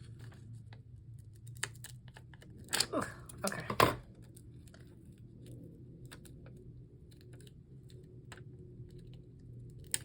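Scissors cutting paper in half for a rustic valentine craft, a brief burst of crisp snips and paper rustle in the middle, then quiet handling noise.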